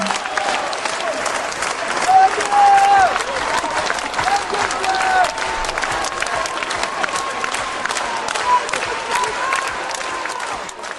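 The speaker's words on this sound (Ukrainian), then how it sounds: "оплески." Sustained audience applause fills a graduation evening ceremony for school leavers, a dense steady clapping from a large crowd lasting around eleven seconds with faint voices mixed in.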